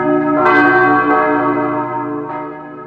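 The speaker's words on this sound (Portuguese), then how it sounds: "Subimos algumas escadas e logo estamos diante da beleza de um sino que data de" An 1827 convent church bell rings loudly and close, one rich resonant strike swelling and sustaining, then a second lighter stroke near the end as the hum decays, with no voices.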